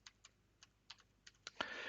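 Commands are typed on a computer keyboard during an Arch Linux install, with a string of sparse, crisp key clicks close by and a louder burst of key presses at the end, no talk.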